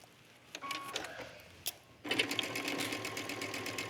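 A sewing machine stitches the lining of a trench coat. It makes a couple of short taps first, then runs in a steady rapid mechanical whir for the last couple of seconds, close and clear.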